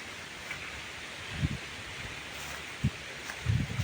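Steady wind rushes through rustling leaves outdoors, with a few louder low gusts buffeting the microphone.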